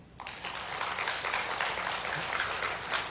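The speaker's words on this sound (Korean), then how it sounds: "남의 일이지만 박수 한번 치시죠." A church congregation claps together in a steady burst of applause lasting a few seconds during a sermon.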